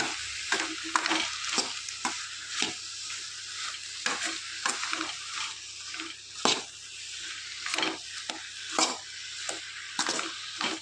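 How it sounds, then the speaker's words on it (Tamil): Chopped ridge gourd frying in hot oil for a Tamil sabzi, a steady low sizzle broken by repeated sharp scraping stirs of the spoon across the pan, close and moderately loud with no talking. "இதுவும் நல்லா எண்ணெயில் ஒரு அஞ்சு நிமிஷம் வேகட்டுங்க"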